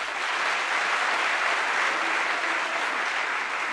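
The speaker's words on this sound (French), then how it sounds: "Applaudissez-les." Applause from the assembled audience at a convention, an even wash of many hands clapping at a distance, steady and fairly soft throughout with no voices.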